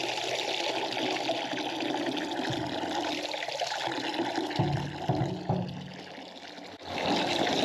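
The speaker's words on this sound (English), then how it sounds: "turn on the water and purge all the air out of it and get it filled with water" Water runs steadily into an antique porcelain bathtub refinished with epoxy acrylic, a continuous, fairly close rushing flow with a brief dip and surge near the end and no voices.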